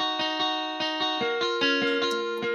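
Clean notes from a semi-hollow electric guitar software instrument preset plucked in a steady rhythm, warm and slightly hollow in tone, played alone and close with ringing harmonics.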